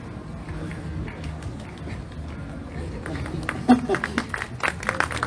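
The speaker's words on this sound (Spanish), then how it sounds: "Un aplauso espontáneo." At a comic book presentation during a book fair, a crowd breaks into scattered applause that starts thin and builds into denser clapping in the second half, over background murmur and voices.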